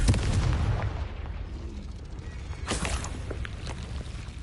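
Several booming blasts from the Confringo fire spell in Hogwarts Legacy, loudest at the start and fading into a rumbling tail, with further sharp bursts near the end.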